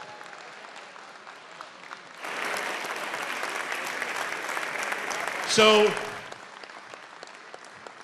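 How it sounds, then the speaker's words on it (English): A round of applause in the House of Representatives swells from a quiet room into steady clapping by many people, with a brief louder burst near the end before it drops back to a murmur; a voice speaks briefly. "Let's give them a big round of applause."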